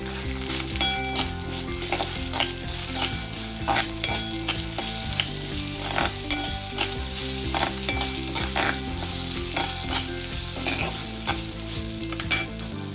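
Sesame seeds, cumin and green chillies sizzle and crackle steadily in hot oil for a ridge gourd roti chutney, with a spoon stirring through the pan and scattered sharp pops and scrapes, close and continuous with no talk.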